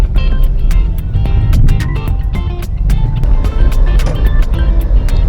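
Car driving along a road, recorded from a camera mounted inside the windshield: a loud steady low engine and road rumble filling the cabin, with faint scattered rattles and ticks over it.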